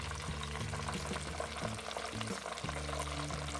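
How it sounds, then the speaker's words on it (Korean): Oysters deep-frying in hot oil for a rice bowl, a steady dense sizzle and crackle that stays loud and continuous throughout, with no talking. "튀김 하는 소리가 참 좋아요."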